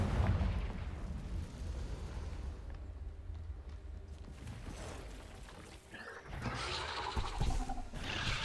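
Confringo fire spell blasts in the video game Hogwarts Legacy, loud booming explosions with crackling bursts and a bright hissing flare near the end, continuous battle noise throughout.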